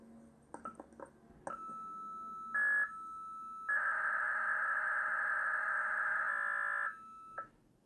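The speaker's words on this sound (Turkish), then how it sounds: "Şimdi telefonumdan bu kaydettiğim ses sinyalini oynatıyorum." A phone plays a recorded encoded text signal for a Philips PX 1000 pocket telex: clicks, then steady electronic tones and a long, loud data warble, ending with a short burst, with no voices.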